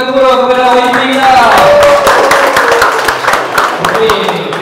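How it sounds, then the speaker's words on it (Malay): An audience claps for the YDP at a gathering, a loud, close voice speaking over the scattered clapping throughout. "berikan tepukan gemuruh kepada YDP kita"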